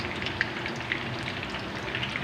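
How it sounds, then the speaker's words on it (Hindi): Kofta balls fry in hot oil over medium heat, making a steady crackling sizzle with scattered small pops, quiet and continuous, with no one speaking. "मीडियम आंच पे इनको अच्छे से फ्राई करेंगे।"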